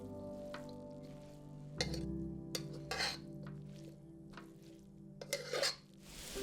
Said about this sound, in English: Here I simply toss it all back in the pan and gently stir to combine.